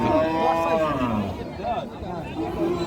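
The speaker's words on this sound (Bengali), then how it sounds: "লেবুখালি গরুর বাজার অসংখ্য মানুষ অনেক বড় বড় গরু এসেছে" Cattle moo repeatedly, close and loud, over a steady babble of crowd chatter and voices at the busy Lebukhali cattle market in Bangladesh before Eid al-Adha.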